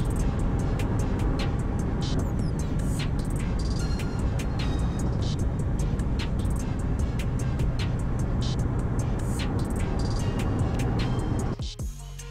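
A 2019 Ford Ranger pickup cruises at highway speed, giving a steady, loud drone of tire and road noise with engine hum throughout, with no talking; near the end the noise cuts off abruptly.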